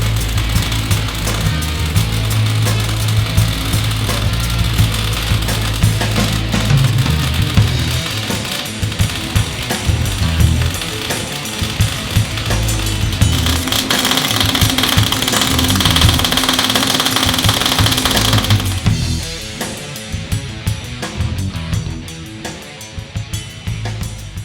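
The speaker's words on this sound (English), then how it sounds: "We're going to burn it in and go lift a log." Excavator fitted with a newly welded Linville hydraulic thumb works a log, its diesel engine droning loud and steady with clanks and rumbles, then easing to a quieter idle near the end.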